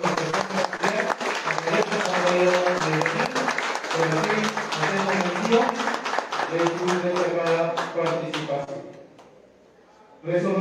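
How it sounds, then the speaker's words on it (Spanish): An audience at a municipal honor ceremony for district chess players claps over music and a voice on a speaker, the steady clapping continuing for several seconds before dropping away into near silence. "Queremos que dar fuertes palmas a Mireya Sánchez Cruz."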